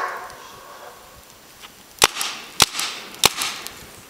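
A paintball gun firing at a fire outdoors, three sharp cracking shots spaced about half a second apart over a soft background hiss, each followed by a brief splatter.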